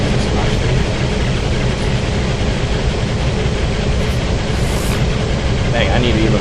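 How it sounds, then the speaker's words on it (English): Northern steam locomotives race in a train video game, with the engines of a locomotive pulling at notch 3 giving a loud, constant broadband roar that never lets up. "You can hear my engines roaring because it needs that power to get going"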